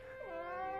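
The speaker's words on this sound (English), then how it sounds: "Your cat was scared, wasn't she?" A cat gives a single drawn-out meow with a falling then steady pitch, close and clear, with no talk over it.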